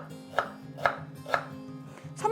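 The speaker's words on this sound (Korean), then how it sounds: "생강은 좀 크니까 썰어 주세요" A knife chopping ginger on a cutting board, three crisp evenly spaced chops and a fourth quicker one, close and clear over a low steady hum, with no voices.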